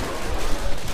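Dense, continuous gunfire from the video game Left 4 Dead 2 on a custom map, a loud, rapid burst of overlapping shots with no clear gaps.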